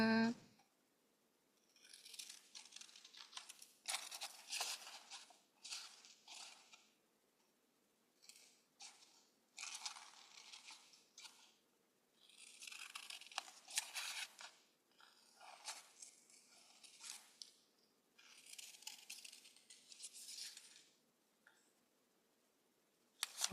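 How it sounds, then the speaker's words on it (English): Scissors cutting paper along a drawn line for a child's craft project, heard as repeated short bursts of snipping and rustling paper, close and fairly quiet, with pauses between the cuts. "Follow the line and cut."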